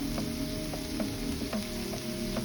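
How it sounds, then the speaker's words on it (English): Shrimp fry in garlic butter in a pan, a constant close sizzle with faint spattering ticks and the low hum of the stovetop beneath. "I'm going to allow the shrimp to go ahead and get a little bit of this good old garlic butter"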